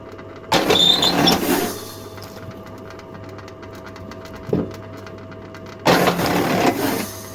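A Skif log splitter runs with a steady motor hum, broken by two loud bursts of mechanical working noise, one near the start and one at the end, plus a brief knock in between.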